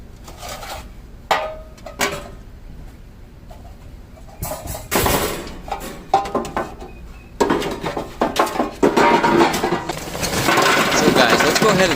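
Charcoal being set up in a propane grill converted to a charcoal and wood smoker, with loud metallic clanks, scrapes and rattles of grates and lumps that build toward a steady, dense clatter near the end.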